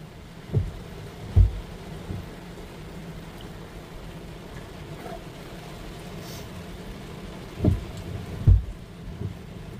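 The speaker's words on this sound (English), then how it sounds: "Every time I turn off the camera, it rains harder." Heavy rain drums on a van while it drives, with a steady hiss broken by four low, booming thumps.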